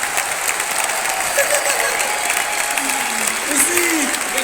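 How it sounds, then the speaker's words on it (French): A large audience at an awards ceremony applauds the two hosts in a steady, loud wash of clapping that holds throughout, with a few voices audible under it. "une dernière bonne main d'applaudissements pour vos animateurs, Raphaël et Pierre-Louis"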